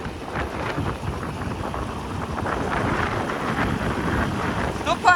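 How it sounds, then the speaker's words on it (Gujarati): Strong gusting wind sweeps through during a sudden summer rainstorm, a steady broadband roar that swells toward the end, close to the microphone. "આવ્યો પવન"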